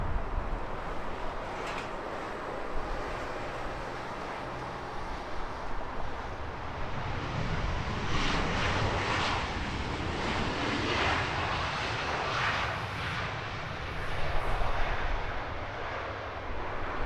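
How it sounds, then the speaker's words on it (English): A Singapore Airlines A380-800 airliner on approach to Heathrow gives a broad, steady roar that swells and rumbles with wind noise, growing louder toward the end, with no talk. "So we are watching the approach of Singapore Flight 308 in from Singapore. It's an A380-800"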